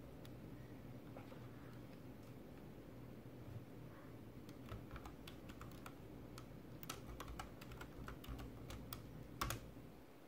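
Soft keyboard typing close by, irregular clusters of key clicks over a quiet hum, growing busier in the second half.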